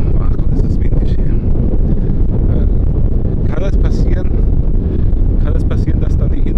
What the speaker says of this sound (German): ach Gott, ist das windig hier